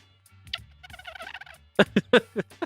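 A squeaky drinking water bottle lets air squeal through as someone sips, giving a chirping, bird-like run of short, fairly loud squeaks that ends in a burst of sharper pulses, close to the microphone, with no talk.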